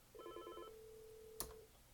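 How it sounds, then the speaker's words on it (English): A Yealink SIP-T28P desk IP phone rings faintly with a short warbling electronic trill, then holds a steady tone cut by a brief click, all very quiet and alone. "So you'll see it's ringing right there."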